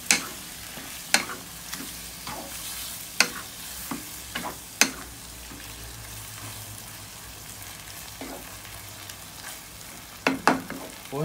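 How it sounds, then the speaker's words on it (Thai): Homemade Thai green curry paste stir-fried in a pot over low heat, with fish balls to follow; a soft sizzle runs throughout, punctuated by sharp scrapes and clinks of the spatula stirring, close and without speech. "ใส่ลงไปเลยผัดกับเครื่องแกงให้หอมนะ"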